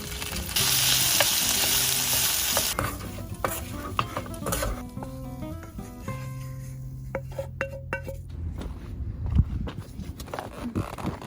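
Food sizzling on a BioLite grill at a campsite, a steady frying hiss with repeated scraping and clinking stirring strokes of a utensil against the cooking surface, close and continuous.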